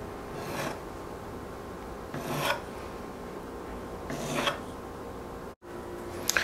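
Pizza dough edge cut into strips, about an inch to an inch and a half thick, with three separate rasping strokes spaced a couple of seconds apart, close and alone.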